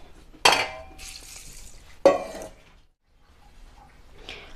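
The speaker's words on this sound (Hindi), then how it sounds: "हमने इस दाल को 3 से 4 बार अच्छे से साफ पानी से वॉश कर लिया है।" Toor dal (pigeon pea lentils) being washed in water in a kitchen vessel: two sharp splashy bursts of swirling and pouring, each trailing off into quieter sloshing, then near silence and a faint final rustle.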